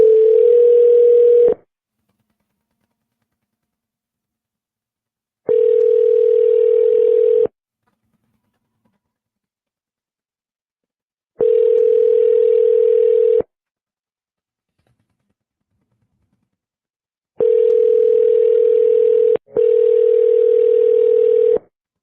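A telephone ringback tone repeats while an outgoing call to a real estate seller waits for an answer. Four steady rings, each about two seconds long, are separated by silent gaps, and a final ring is briefly broken in two. No one speaks.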